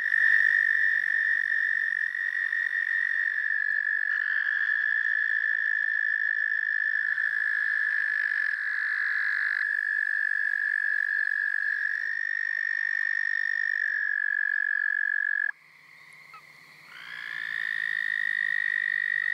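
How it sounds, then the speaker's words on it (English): American toads trill at night close by, a loud, sustained high-pitched trill that overlaps with other trillers and keeps going for almost twenty seconds, with a short dip before one voice returns. "The high-pitched trills of American toads are unmistakable."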